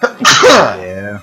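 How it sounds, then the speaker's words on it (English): A sudden, close sneeze from a player during a Pokémon league stream, sharp and loud with a voiced tail, preceded by a brief word of talk. "stop sneezing. Bless you."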